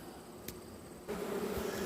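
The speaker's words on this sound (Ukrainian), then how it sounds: "Чотири рамки з бджолою." Honey bees hum in a beehive holding frames of bees, a steady low drone that swells noticeably louder partway through, with no talking.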